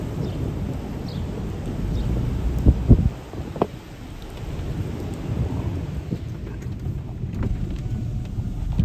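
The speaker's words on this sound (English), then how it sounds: "Did you hear the big thunder, guys?" Thunder rumbling during a Miami spring thunderstorm, a deep rolling boom with a sharp crack near the start, fading into a low sustained rumble with rain in the background.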